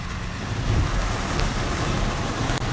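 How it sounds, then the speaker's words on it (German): A VW Amarok pickup ploughs through deep water off-road in a forest, a loud continuous rushing wash and surge of water with engine rumble underneath, no speech. "Und tiefes Wasser ist für den Amarok auch kein Ding."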